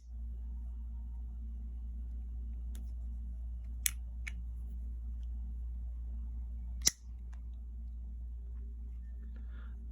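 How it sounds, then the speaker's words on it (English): A modern coil-spring, button-operated switchblade snaps open and shut in a few sharp, isolated clicks over a quiet steady room hum. "It's a modern switchblade. This modern coil spring, button open, button close type."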